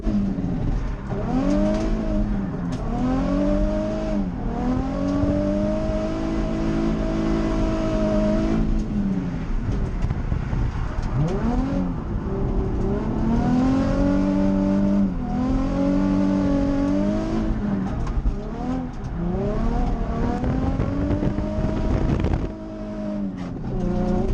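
A drift car on grippier Willow 80C tires laps Willow Springs Raceway, its engine revving hard and rising and falling through gear changes, loud and continuous, with tire and exhaust noise throughout.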